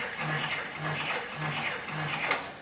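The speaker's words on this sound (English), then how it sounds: "go ahead and place the machine in reverse so you can see how reliable the stitching is in reverse" Heavy-duty industrial sewing machine, model 205-370, running in reverse through very heavy harness and skirting leather, with a steady rhythmic stitching thump repeating about every half second at close range.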